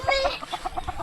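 Chickens clucking close by in a yard under a house, a series of short rhythmic clucks repeating steadily over a second, moderately loud with no talking.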